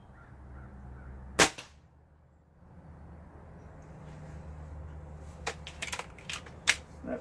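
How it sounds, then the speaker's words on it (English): Single sharp report of a Gamo Swarm Maxxim .22 air rifle firing a pellet at a target, close and loud over quiet background, followed a few seconds later by several faint clicks and knocks. "I'm going to be shooting at the big center target"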